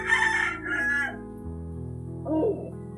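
A gamecock crows loudly nearby, a long cock-a-doodle-doo followed by a shorter call, with no other sounds around it.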